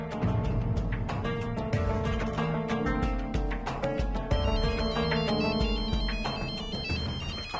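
A phone ringtone plays loudly and steadily on speakerphone during a call to an ex-wife, a repeating melodic tone with strong bright pulses and no talk over it.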